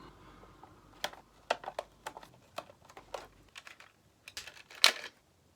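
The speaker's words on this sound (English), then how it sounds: "Bit more tape to fight with." Packing tape is picked and peeled off a Digimon cage figure's box in short, sharp crackling bursts, close and fairly quiet, with pauses between pulls and no talking.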